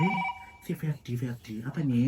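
A telephone rings briefly at the start with a steady electronic tone, then gives way to close conversational speech between people in a casual indoor scene.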